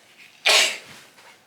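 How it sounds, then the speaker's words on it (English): A single loud, sharp sneeze bursts out close by, brief and breathy, with quiet room tone before and after. "I'm gonna sneeze."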